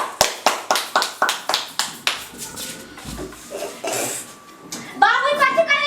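Hands clap sharply in a steady rhythm, about a dozen crisp claps close by, then looser scattered claps and tapping, with a voice and other people talking toward the end.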